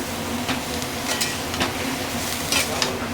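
Bottle gourd with fried spices and a little water being stirred in a frying pan, giving a soft continuous sizzle with a few light scraping strokes, close and fairly quiet with no talk.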